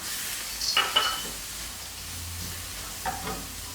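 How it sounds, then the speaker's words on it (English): Egg and chopped cashew nuts are stir-fried in a pan for pineapple fried rice, a soft steady sizzle with a few clustered scrapes of a utensil early on and again near the end, no speech. "So at that point I'm adding my crushed, chopped cashew nuts, 1/2 a cup."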